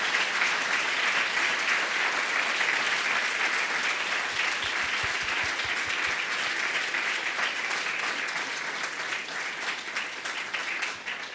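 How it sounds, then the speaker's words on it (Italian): Sustained audience applause fills the space, loud and dense from the start, easing slightly toward the end with no speech. "fare veramente un applauso a loro"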